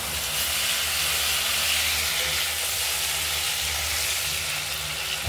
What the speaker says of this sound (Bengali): ভাজা হয়ে গেছে, আলুটা ভাজা হয়ে গেছে